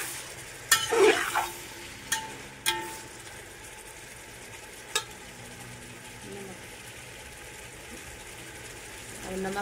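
Tomatoes for khichdi hit a hot pan and fry with a soft sizzle, and a few sharp clinks and scrapes of stirring come early on; a quiet, faint background hum continues throughout.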